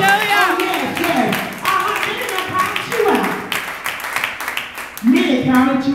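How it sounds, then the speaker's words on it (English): Church congregation clapping hands during a women's conference worship service, steady rhythmic claps running throughout beneath a preacher's amplified voice and background music. "Clap those hands and tell God."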